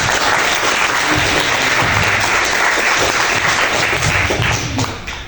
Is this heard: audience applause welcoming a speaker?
yes